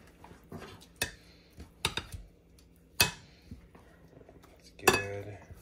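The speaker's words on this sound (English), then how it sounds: "Toss it up. Let's mix these things around." Food being tossed and mixed in a bowl with utensils, giving several sharp clinks and scrapes spaced irregularly, fairly close and moderately loud, with no talking.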